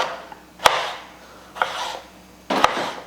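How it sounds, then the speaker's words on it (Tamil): Tomatoes are chopped finely with a knife on a board for egg parotta, three crisp close chops spaced about a second apart with a soft scrape between, no talking. "நல்லா குட்டியாக இதையுமே வெட்டி எடுத்துடலாம்"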